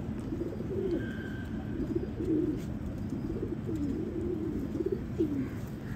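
Pigeons in a loft coo repeatedly in low, rolling phrases against a steady background hum, with a faint higher bird call in the mix and no talking.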